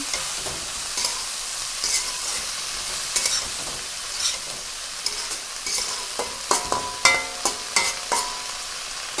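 Greens cooked with turmeric and salt being stirred in a pan, a constant sizzle broken by repeated spatula scrapes and clacks that quicken toward the end, close and fairly loud.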